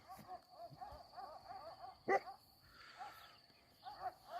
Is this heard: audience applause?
no